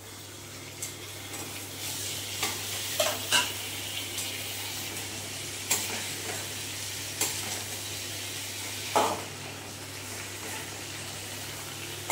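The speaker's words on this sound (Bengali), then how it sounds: "এবারে আমি এর মধ্যে দিয়ে দেবো এই ম্যারিনেট করা মাছগুলো" Marinated hilsa pieces fry in a mustard spice paste with a steady, close sizzle, broken by scattered clicks and scrapes as the fish is stirred and turned in the pan.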